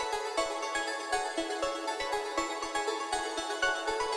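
A wide, big synth lead carrying the main melody of an electronic track, with rhythmic note attacks pulsing over a full, bright sustained layer, loud and steady throughout, no talking.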